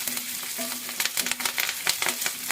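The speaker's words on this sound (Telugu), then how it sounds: "ఇప్పుడు కరివేపాకు కూడా వేద్దాం. వేసి మంచిగా ఇలాగా కలియపెడదాము" Curry leaves drop into onions frying to light brown in a pan and get stirred, giving a steady close sizzle with quick scraping strokes and small crackles, no voices.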